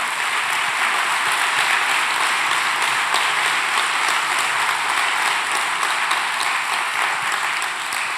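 Church congregation applauding loudly and continuously, a dense, sustained wash of many hands clapping that fills the room without letup.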